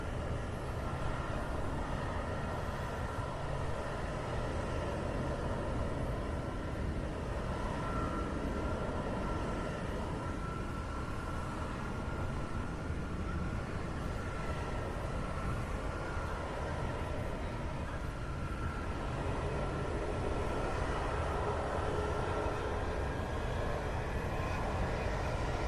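Continuous broadband jet-engine roar from a military fighter jet starting to move during the Sentry Aloha fighter exercise in Hawaii with F-22, F-35 and F-15 aircraft, steady and loud throughout with no talk.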